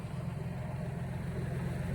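A steady low tractor engine rumble drones throughout, the heavy motor idling nearby with a constant, even throb.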